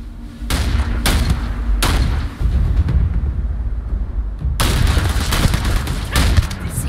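Heavy gunfire from the video game Starfield booms in dense, loud bursts close by, pausing briefly in the middle before a renewed volley, with a faint voice barely audible.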